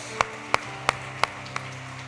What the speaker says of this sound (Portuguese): Você pode aplaudir a Jesus por essa palavra.